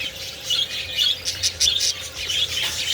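Cockatiels kept in a cage chirp and call in repeated bright, high tweets at moderate distance over a steady low hum, with no talking.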